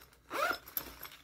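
A zipper on an affordable crossbody bag is pulled open in one quick, close rasping stroke, followed by a few faint clicks of the pull and fabric.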